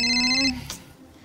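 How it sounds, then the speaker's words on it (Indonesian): A telephone rings at three in the morning with a bright electronic tone for about half a second and then cuts off, followed by a short rustle and quiet. "Akan tetapi malamnya, pukul 3 subuh, telepon Darwin kembali berdering."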